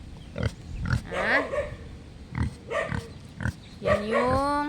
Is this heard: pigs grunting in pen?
yes